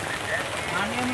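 Rain pouring steadily at an outdoor village market, a dense close hiss of drops striking surfaces, continuous and fairly loud with faint background voices.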